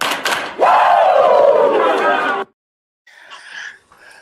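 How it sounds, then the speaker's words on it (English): Crowd at an election watch party letting out a long, loud collective shout after brief sharp hits, then falling silent before scattered voices return faintly. "Now give me 2 claps and a Ric Flair"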